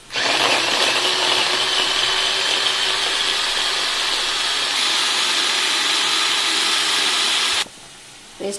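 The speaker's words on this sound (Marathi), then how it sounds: "चॉपरवर चॉप करून घेऊया।" Electric vegetable chopper whirring loudly at a steady pitch for about seven and a half seconds while chopping potatoes and peas for aloo matar bhaji, then cutting off abruptly.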